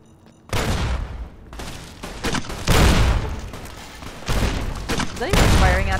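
Heavy gunfire in Fallout: New Vegas, loud bursts and volleys of shots one after another, with a voice talking over the shooting.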